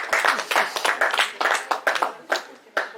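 An audience claps at a book launch, a brisk burst of many hands close by that swells and thins over a few seconds.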